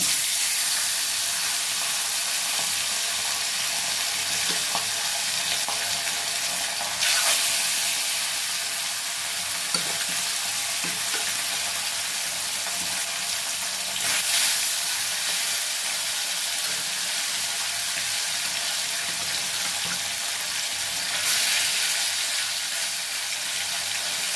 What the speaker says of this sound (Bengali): এবারে মাছটা কড়াইতে